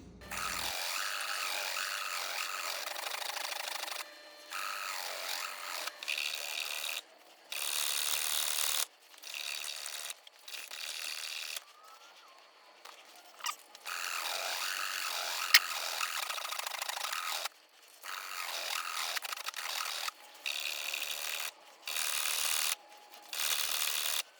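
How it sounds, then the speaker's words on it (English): Spongy sandpaper rubs along the frets of an Ibanez Artist guitar during a re-fret, producing close, steady rasping strokes in long bursts separated by brief pauses. "with these spongy pieces of sandpaper, the job is really, really quick, really easy"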